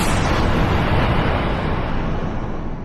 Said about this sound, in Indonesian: Ledakan cahaya merah membungkus kabut malam